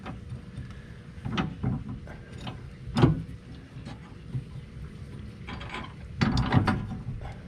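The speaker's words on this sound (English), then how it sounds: "These are pretty loose, so I'm going to tighten them up." Reese M5 hitch adjusters being tightened with a ratchet, giving close, uneven bursts of clicking and mechanical clunks with short pauses between strokes.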